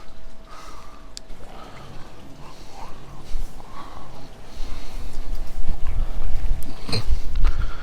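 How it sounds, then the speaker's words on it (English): Wind gusts buffet the microphone with low rumbling that grows stronger toward the end, under faint distant noise, at an outdoor koi pond build. "it's a little bit windy."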